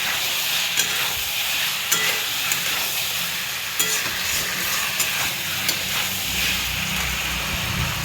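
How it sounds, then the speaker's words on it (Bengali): Small eggplants stirred in an oil-filled frying pan, a steady sizzle and hiss with scattered scraping knocks of the spoon against the pan, close and continuous. "বেগুনগুলোকে হালকা একটু নাড়াচাড়া করছি।"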